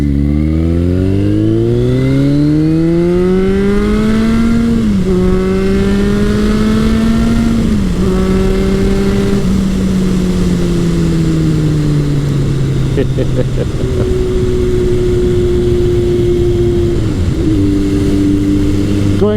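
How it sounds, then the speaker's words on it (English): A 1981 Kawasaki KZ1000 CSR motorcycle with a Delkevic exhaust pulls hard up through the gears, its engine note rising and dropping at each shift, loud and close throughout the clip. "I've got the Delcovic pipe and it just sounds great under hard acceleration"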